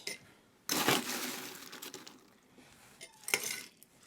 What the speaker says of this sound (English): Top our mixing glass up with ice.